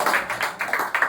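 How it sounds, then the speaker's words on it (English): A small group of English Mania students claps for a fellow student after a group discussion: a few close, sharp claps in quick bursts, with no talking. "now give him a huge round of applause"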